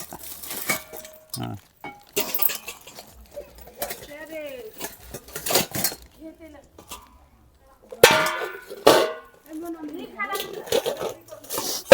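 Metal pots clanging and clinking as they are handled, scattered sharp knocks between stretches of someone speaking nearby.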